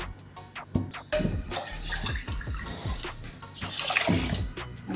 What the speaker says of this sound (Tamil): நம்ம 2 மடங்காக தண்ணி ஊற்றிக்கலாம்